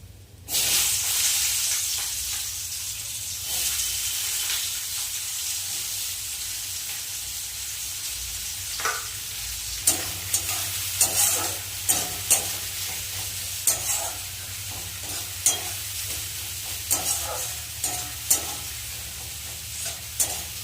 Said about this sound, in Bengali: এদিকে পেঁয়াজটা ভাজা হতে থাক